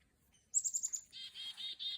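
A pileated woodpecker calls on a drizzly morning with a quick run of sharp, high notes, then a second series of repeated calls, fairly close against a quiet background.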